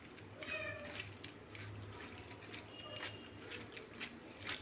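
Water runs and splashes into a vessel at a low level, a soft continuous trickling pour with faint drips and a little background noise, heard close by with no speech.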